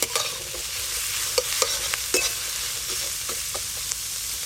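Ginger and garlic sizzle with onion in a pan over a village clay stove, a steady bright frying hiss broken by several sharp clinks and scrapes of a spoon stirring.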